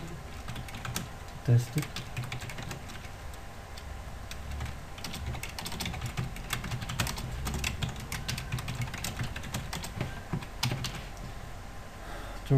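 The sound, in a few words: typing on a computer keyboard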